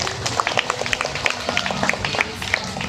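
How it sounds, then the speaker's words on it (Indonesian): An audience at the opening of a mother and child library applauds steadily, with dense clapping throughout and faint voices underneath. "Kita berikan aplaus sekali lagi"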